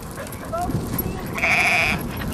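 Sheep bleat as a young herding dog learns to move the flock, a wavering cry rising over steady outdoor background noise with people talking nearby.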